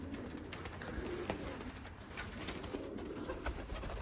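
Andalusian pigeons coo softly among a large loft flock, faint repeated low calls over a steady background hiss with occasional wing flutters and clicks, no talking.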